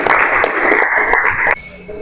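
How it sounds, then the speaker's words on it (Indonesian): Audience in an automotive engineering teacher training session applauds three winners, a dense, steady wash of clapping that fills the room for about a second and a half, then cuts off abruptly. "Beri aplaus dulu untuk ketiganya,"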